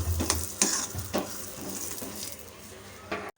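Raw peanuts frying in oil over a low to medium flame, a close crackling sizzle broken by rhythmic scrapes and knocks of stirring, ending abruptly.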